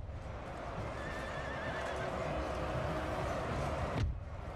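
A horse in Napoleon: Total War neighs over a continuous backdrop of battlefield noise and hoof clatter, with a brief sharp clunk near the end.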